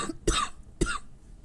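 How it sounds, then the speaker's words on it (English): Two sharp coughs in quick succession, close and fairly loud, with a short pause between them and no talking. "I'm not trying to cough on the mic."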